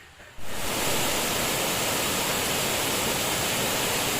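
A waterfall roars as a dense, loud, steady broadband rush that starts abruptly and continues without a break.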